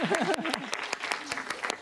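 A short burst of applause for a game-show contestant, with a voice talking over the first half before the clapping carries on alone at moderate volume.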